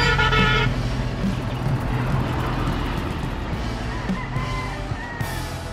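A passing vehicle sounds its horn on a road in Laurel, Batangas, with short toots over a steady traffic rumble and a brief tonal blast near the end, all at moderate loudness.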